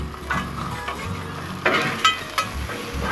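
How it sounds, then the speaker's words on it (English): Peppers and onions and bratwursts fry on a Blackstone griddle with a steady close sizzle, while a metal spatula scrapes and taps the flat-top in a few sharp strokes as the food is stirred and flipped. "Let's stir up our peppers and onions and flip these bratwursts."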